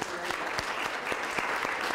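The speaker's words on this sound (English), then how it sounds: "give them a round of applause" Audience applauds at a community college interfaith dialogue, with dense clapping and a few sharper individual claps from a seated crowd.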